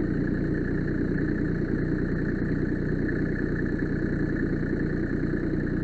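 A Massey Ferguson 1526 compact tractor engine runs steadily at a constant idle-like pitch, close and loud on a windy, dusty farm, with no talk over it.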